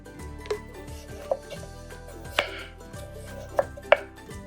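Knife slicing peeled potatoes very thinly on a cutting board, a handful of crisp, uneven chops, close and distinct against a quiet background hum.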